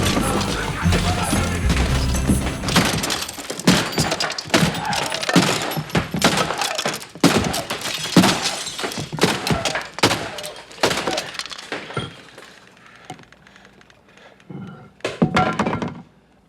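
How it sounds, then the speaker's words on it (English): Portable radio smashed to pieces with a baseball bat in a street scene, heard as a long series of hard crashing blows with clattering and breaking debris, the strikes slowing and thinning toward the end. "I just killed your fucking radio."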